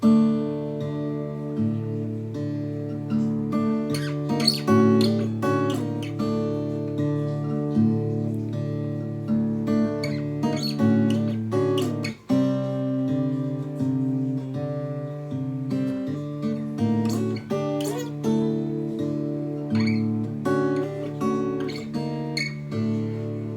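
Fingerstyle acoustic guitar plays a melody slowly, with a low bass line under plucked high notes in a syncopated rhythm, steady and close with no talking.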